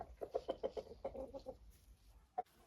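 A rooster chosen for a flock of hens gives a quick run of close, rhythmic clucks, then quiets, with one last sharp cluck near the end.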